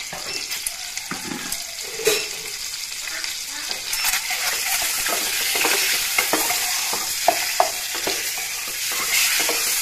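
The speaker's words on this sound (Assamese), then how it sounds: "প্ৰথমতে কণীকেইটা ফ্ৰাই কৰি ল'লোঁ অলপ" Eggs fry in a pan for an egg curry, giving a continuous crackling sizzle broken by scraping and stirring clicks from a utensil.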